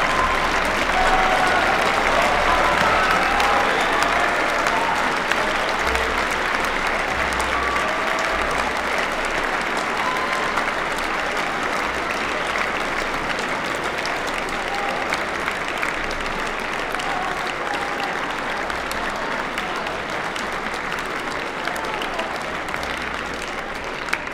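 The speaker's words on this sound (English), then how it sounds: "let's give everyone and ourselves a huge round of applause because it's your award" Sustained, loud applause from a high school audience giving a standing ovation at a state spirit of excellence award event, dense clapping continuing evenly throughout with crowd murmur underneath.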